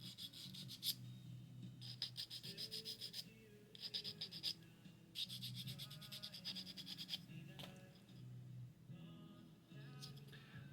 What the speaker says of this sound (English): so let's give that a little bit of a sand.